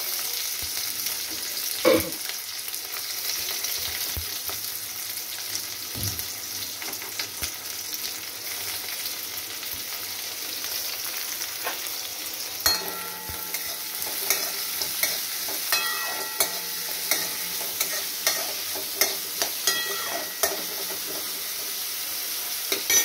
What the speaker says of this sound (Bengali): পেঁয়াজগুলো একটু ভাজা হোক